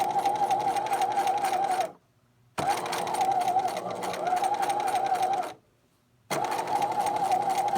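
A sewing machine runs a quarter-inch seam in steady, humming stitching bursts, loud and close, broken by two short pauses before starting again.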